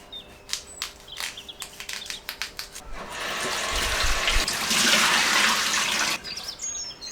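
Water runs steadily from a tap as turkey berries, greens and cassava are washed in a Ghanaian kitchen, a broad continuous rush swelling in the middle, with faint bird chirps outside and clinking at the start.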